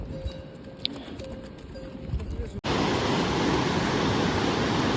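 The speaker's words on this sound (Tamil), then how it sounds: "தண்ணி வந்துக்கிட்டே இருக்குது." Water in Himachal Pradesh flows as a steady broadband rush that suddenly becomes loud and close, following a quieter stretch of outdoor ambience with faint clatter.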